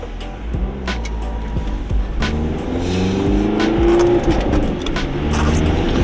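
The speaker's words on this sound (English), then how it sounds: "So we have a Toyota Corolla all-wheel drive system, some really old snow tires, and about 80 horsepower." A diesel all-wheel-drive Toyota Corolla of about 80 horsepower on very old snow tires drives along. Its engine drones loudly and steadily, rising in pitch under a continuous road and tire noise, with no talk.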